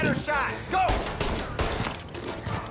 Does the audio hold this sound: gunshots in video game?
yes